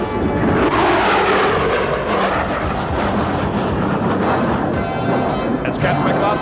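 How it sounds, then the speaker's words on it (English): F-16 Fighting Falcon jet roaring through a high-speed low pass at an air show, a loud sustained wash of engine noise swelling and fading, with an announcer talking over it. "As he passes show center, he'll be traveling over 600 miles per hour."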